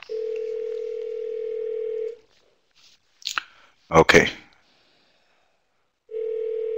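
A telephone dial tone hums steadily, cuts off for a few clicks and keypad sounds, then resumes near the end; a voice briefly says a word in between.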